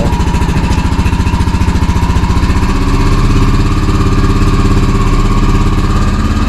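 A cold Honda Rancher 350 ATV engine on full choke runs loud and close in a steady, rapid putter, its throbbing chug holding even throughout with no voices.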